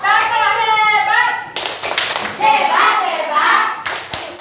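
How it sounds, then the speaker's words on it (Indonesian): A group of children doing a rhythmic chant-and-clap routine, with voices singing out over a few sharp bursts of clapping. "Oke, 1, 2, 3. Tepuk hebat."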